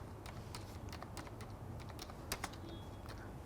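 Quick, light keystrokes patter irregularly on a computer keyboard, close by, over a low steady hum, with a couple of slightly sharper clicks near the end.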